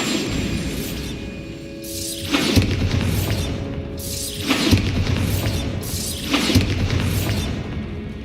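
Bombarda blasting spell explosions in Hogwarts Legacy: three heavy booming blasts spaced a couple of seconds apart, each with a crashing, shattering tail over a steady background hum.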